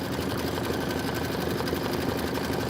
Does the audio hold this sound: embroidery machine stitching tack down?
yes